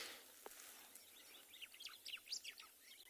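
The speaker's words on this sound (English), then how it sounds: "The birds are still chirping though." Birds chirp and twitter in the morning on a sunrise safari, a cluster of quick, fairly faint calls from the middle distance over a quiet outdoor background, growing busier toward the end with no voices.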